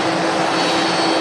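Airliner jet engines roar at Manchester Airport, a steady, loud, broadband rush of engine noise that holds evenly throughout with no talk over it.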